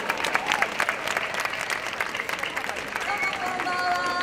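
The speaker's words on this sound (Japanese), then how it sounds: "皆さん拍手でお迎えください。" An audience at an outdoor summer festival bon-odori event bursts into sustained, dense applause that stays loud throughout, with a voice faintly audible beneath the clapping.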